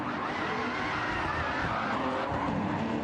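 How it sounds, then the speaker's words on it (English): Gran Turismo race car drifting through turn one in an online race lobby, with continuous loud tire squeal and screeching skid noise over a steady engine roar for the whole stretch. "Drifting the car around"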